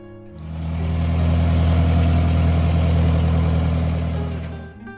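A John Deere 2010 tractor engine runs close by, a loud, steady, low-pitched idle that builds over a second, holds its deep vibrating drone and then cuts off near the end.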